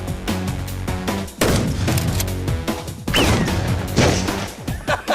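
A 12-gauge shotgun firing solid slug rounds, several sharp, loud blasts in quick succession with crashing impacts and ringing echoes between them.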